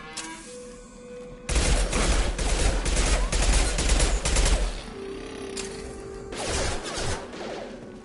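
Gunfire from Mass Effect 2 bursts out in a dense, rapid fusillade of shots up close, trailing off and then flaring again in shorter bursts toward the end.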